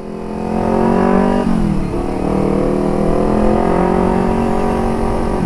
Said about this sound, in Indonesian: Sorry coy, nggak sengaja gue buat ngebunyiin mobil lo